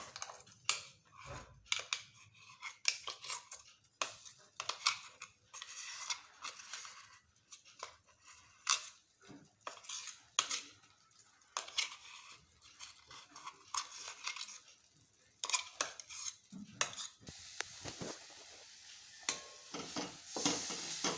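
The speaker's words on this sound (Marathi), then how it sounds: "आता आपण जी मुगाची डाळ वाटलेली होती ती आता आपण कढईमध्ये परतवायसाठी टाकणार आहोत" Ground moong dal is stirred and sautéed in a kadhai for a kachori filling, giving irregular close scraping strokes and soft sizzling. The sound is faint and stays intermittent throughout, with no voices.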